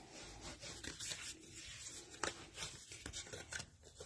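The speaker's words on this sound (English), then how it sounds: "go ahead and burnish those score lines." A tool is rubbed along score lines on a paper card, giving soft repeated scraping and rubbing strokes with a few sharper taps, quiet and close.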